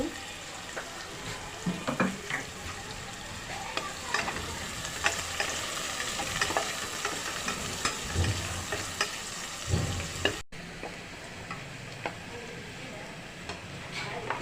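Onion with bay leaf, cinnamon, cardamom and cloves frying in oil in a pan for home-style bhuna khichuri, a steady close sizzle with scattered clinks and scraping of stirring throughout.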